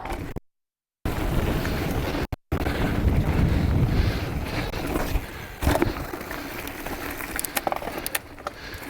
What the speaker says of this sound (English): Quite a wind on there